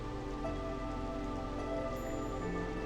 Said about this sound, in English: I guess it's the hailstorm, isn't it?